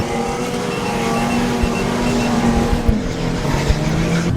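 A recent off-road vehicle powers up a desert sand dune at speed, engine revving hard with rising and falling pitch, loud and close, with tires churning through sand.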